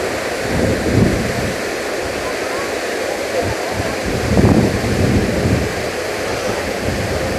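A large fountain at the Tivoli gardens in Copenhagen splashes in a steady, loud roar of falling water that fills the whole stretch, with brief low rumbles rising now and then.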